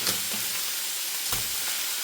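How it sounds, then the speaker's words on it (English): A thick steak frying in a hot pan after being flipped, a steady close sizzle and crackle with small spitting pops, no voices. "Time to flip the steak."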